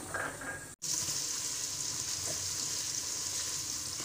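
Finely chopped medium onions frying in a kadhai, a steady close sizzle with a brief cut near the start, continuous and alone without talk.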